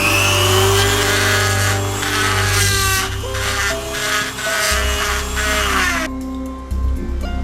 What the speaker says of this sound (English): In a pinch, you can also use one of these handy-dandy rotary tools.